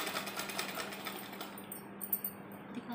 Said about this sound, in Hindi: अब यहाँ पर इसको दबाते हुए हम एक सिलाई मार देते हैं यहाँ पर